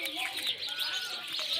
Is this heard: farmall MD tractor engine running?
no